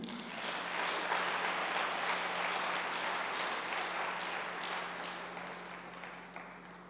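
Church congregation applauding to acclaim Jesus during a sermon, a steady wash of clapping at moderate distance that holds for several seconds, then thins slightly toward the end.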